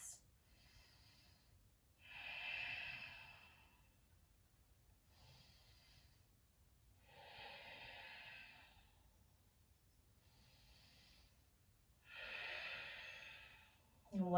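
People breathe slowly and deeply while holding a yoga pose, with long breaths in and out that rise and fade in a steady rhythm. The breathing is soft and close.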